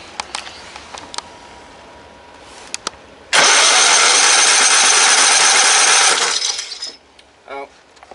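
A tow rig tractor engine, choked to get fuel circulating, bursts into a loud, steady roar for about three seconds after a few faint clicks, then cuts off abruptly, leaving quiet handling noise and a brief voice.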